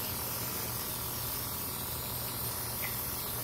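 A steady, even hiss of an aerosol spray can coating the underside of a palm tree stepping stone runs continuously throughout, with no pauses.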